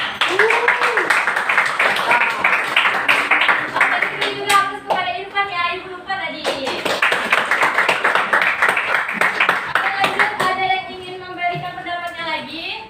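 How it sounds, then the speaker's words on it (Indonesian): A classroom of students claps for a classmate, steady hand clapping that fills most of the stretch, with a teacher's voice talking over and between the applause. "beri dulu aplaus kepada temannya"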